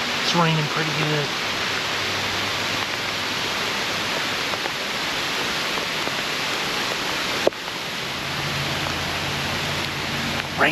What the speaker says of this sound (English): Rain's coming down pretty good.